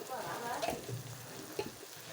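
Ginger garlic paste fries in a pan for a seer fish curry, a faint steady sizzle with a couple of soft stirring taps, and a quiet voice in the background.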